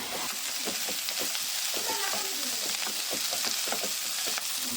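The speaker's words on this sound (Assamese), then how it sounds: "এইখিনি অলপমান সময় ভালদৰে ভাজি ল'ম" Peas and beans frying in a pan for Assamese poha give off a steady, close sizzle, with repeated scrapes and taps of a stirring spoon throughout.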